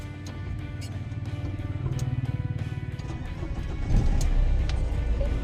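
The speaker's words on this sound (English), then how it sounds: "Vehicle starting." A Nissan Micra engine cranks with a rapid rhythmic starter chatter that builds, then catches and settles into a loud steady idle rumble, close by with no talking.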